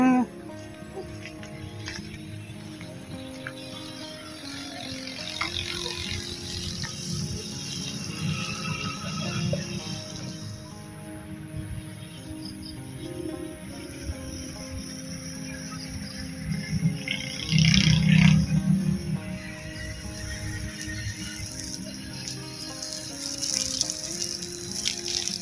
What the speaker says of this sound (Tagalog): Tubig na.